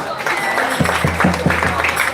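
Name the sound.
big round of applause at festival auction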